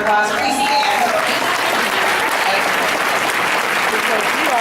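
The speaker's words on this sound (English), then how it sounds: "will you guys give these guys a round of applause?" A large audience at a Xyngfling Nashville conference gives a round of applause, loud, continuous and dense from start to finish, with crowd voices mixed into it.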